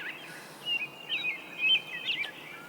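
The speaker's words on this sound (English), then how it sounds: "the birds are so loud" Birds in the hunting video game Way of the Hunter, a run of loud chirps and whistling calls over a quiet outdoor ambience, with no talk.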